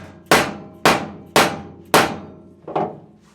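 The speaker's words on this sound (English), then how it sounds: "to mark it, I'm just going to hammer it" A hammer strikes the metal floor pan of a Jeep to mark a bolt position underneath, five sharp, ringing blows at a steady pace, the last one lighter.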